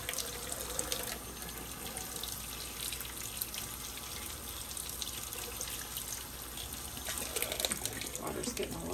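A water tap runs steadily into a sink while pieces of dichroic fusing glass are rinsed, a continuous splashing flow with small clinks and shifts, no talking.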